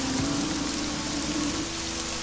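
Steady rain falls at night in the video game Morrowind, a constant even hiss of drops with a faint low hum beneath.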